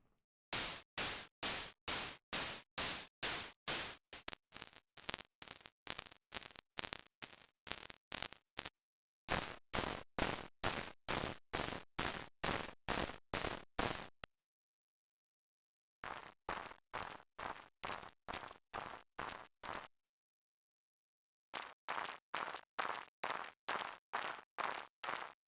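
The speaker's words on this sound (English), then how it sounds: "The main sound is this crunch, which features a series of processing done to a white noise generator." Rapid bursts of harsh crunching noise, a synthesized game mining sound made from processed white noise in Pure Data, repeat in evenly spaced groups, separated by short silences, sounding synthetic and gritty.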